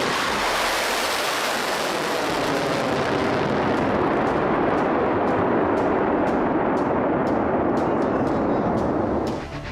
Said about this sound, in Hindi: इस मिसाइल की लॉन्चिंग का एक वीडियो भी जारी किया गया